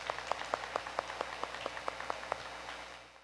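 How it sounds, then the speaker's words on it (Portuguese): Audience at a church gathering claps in unison for a speaker, about a dozen crisp, evenly spaced claps in a steady rhythm before the sound fades out. "Você poderia bater palmas para ele?"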